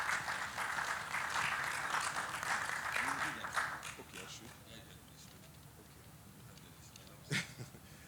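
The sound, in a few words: audience applause for panel chairman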